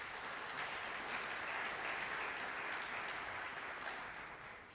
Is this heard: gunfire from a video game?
no